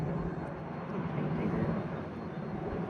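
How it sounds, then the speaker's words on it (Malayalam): An airplane passes overhead on a sunny, breezy day in New Zealand, a low, steady, distant engine drone that swells slightly midway with wind in the background. "ഒരു ഫ്ലൈറ്റ് പോകുന്നുണ്ട്."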